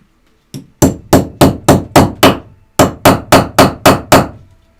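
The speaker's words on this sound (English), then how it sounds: "tap it with my hammer. And when you tap it, when it hits your surface, it's going to make a different sound." A hammer taps a rivet on a hard surface until it punches through, giving eleven sharp, loud, close strikes in two quick, evenly spaced runs separated by a short pause.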